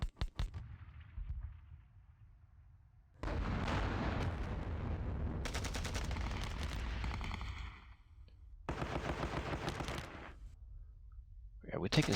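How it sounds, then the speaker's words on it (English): Machine gun fire in the wargame John Tiller Battles of Normandy: a few sharp shots, then long sustained rattling bursts separated by short pauses, loud and dense, ending with another brief shot. "Sounds like a machine gun here. Machine gun in placement here."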